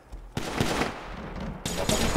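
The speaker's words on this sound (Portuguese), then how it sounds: "É dois atirando lá fora" Video game gunfire, several sharp bursts of shots in quick succession with short gaps between them, moderately loud and heard alone.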